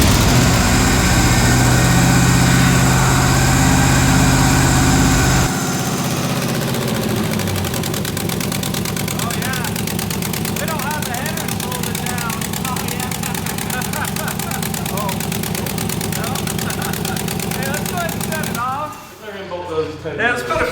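Chevrolet K5 Blazer engine running loud and rough close by, settling into a steady idle with a rattling tone, while people talk over it.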